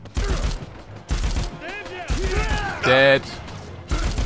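Gunfire in Dead Rising 4, loud repeated bursts of shots in separate clusters across the scene, mixed with game effects and a voice talking over them.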